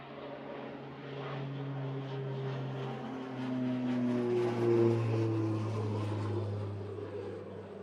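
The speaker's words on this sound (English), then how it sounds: "There's the Beechcraft." A Beechcraft propeller aircraft at Manchester Airport drones with a steady low tonal hum, rising slightly as it passes and then easing, heard alone.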